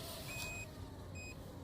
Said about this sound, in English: I think the batteries in my transmitter are dying because it's beeping like crazy.